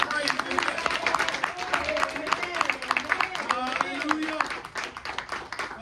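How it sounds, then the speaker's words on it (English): Rhythmic hand clapping by a church congregation during a youth service, a steady brisk beat carried on by many hands while voices sing and call out over it. "Let us give God a hand clap of praise."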